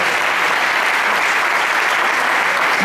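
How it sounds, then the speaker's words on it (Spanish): A church congregation gives a loud applause for Jesus during a sermon, a thick, even roar of many hands clapping that holds steady for the whole stretch, close and unbroken. "dar un fuerte aplauso a Jesús por lo que Él hizo"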